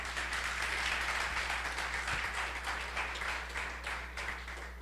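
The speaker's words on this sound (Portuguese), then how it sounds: "aplauda Jesus." A congregation at a church service applauds together, a broad, fairly quiet wash of clapping that fades slightly toward the end over a steady low hum.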